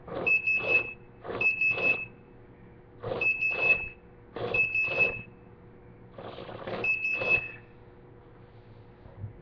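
A money-counting machine beeps in six evenly spaced bursts, each a rapid pair of shrill electronic tones, with a low steady hum underneath, signalling an error as it refuses to count.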